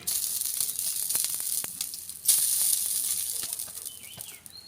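Oil hitting a hot tawa griddle gives a steady bright sizzle that flares louder midway and then settles into a continuous hiss, close by, with no talk.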